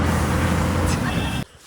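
Worn-out old bus on the move: a loud, continuous engine and road rumble fills the cabin, then abruptly drops away near the end.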